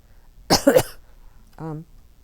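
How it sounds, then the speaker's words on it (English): A single harsh cough bursts out close to the microphone, followed a moment later by a short voiced sound. "Yeah, I've got a bit of a cough."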